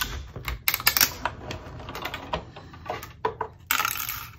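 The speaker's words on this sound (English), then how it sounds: "And vellum always makes that cracking noise when..." Vellum paper handled during card-making, producing close, dry crackles and crinkles in irregular bursts at low volume, with no voices.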